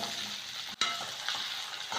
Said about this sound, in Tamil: நல்லா வந்து ஆனியன் ஃப்ரை ஆகி கோல்டன் ப்ரௌன் ஆகட்டும்